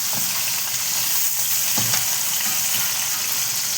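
Fish-oil fritters frying in hot oil produce a close, constant crackling sizzle, with a few brief stirring knocks and no talk.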